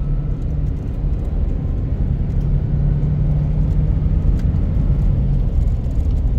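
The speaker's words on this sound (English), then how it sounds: "I'm gonna give it a bit of gas just to see if I can cause any issues on purpose." A 2011 Toyota Tundra with a 5.7L engine and a dead alternator is given gas while driving: a steady, loud low engine drone and road rumble runs unbroken throughout, with no talking.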